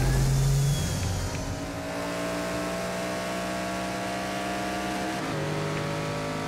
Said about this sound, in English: I thought I was about to drift around that corner